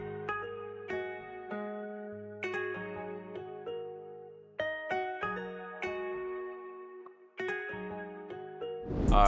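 Plucked nylon-string guitar from a sampled instrument bank in FL Studio, playing a sparse run of chords and single notes with clean, separate attacks, ending in a brief burst of noise.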